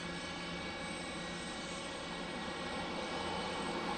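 A Delta Boeing 717 jet at Detroit Metro Wayne airport gives off a steady, distant engine roar, broad and unbroken, with no voices over it.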